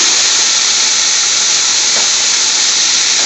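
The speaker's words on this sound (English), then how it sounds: "It's putting three large chopped onions in there." Three large chopped onions sizzling in a hot pan for spinach saag bhaji, British Indian restaurant style, a loud, steady, bright hiss throughout with no break.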